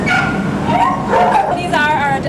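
Dogs waiting to be spayed and neutered before adoption bark and whimper in a pre-surgery room, with short yips and whines heard close and loud over a noisy background.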